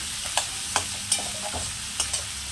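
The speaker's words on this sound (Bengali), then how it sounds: "পেঁয়াজটাকে ভেজে নেব।" Onions frying in a pan for a tengra fish curry: a steady broadband sizzle with several sharp stirring scrapes and clicks spaced irregularly, close and fairly loud, with no talking.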